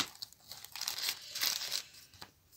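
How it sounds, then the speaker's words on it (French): Paper being crumpled and handled while it is glued down for an intuitive art-journal collage, with quiet close crinkling and rustling in short, uneven bursts and no speech. "Je colle."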